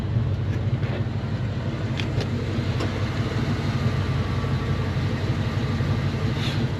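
A 1994 GMC Sierra 4x4 1500 SLE on the move gives off a deep, continuous engine and exhaust rumble, a smooth, unaggressive drone with road noise layered on top.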